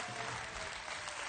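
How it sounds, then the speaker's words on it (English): An audience at a DrupalCon Amsterdam conference session breaks into a steady burst of clapping, dense and close, filling the short moment without any talking. "can I get some applause for that?"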